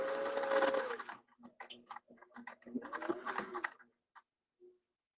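A sewing machine runs in short bursts while stitching a top, giving quick repeated clicking and whirring, close and clear, with brief stops between runs.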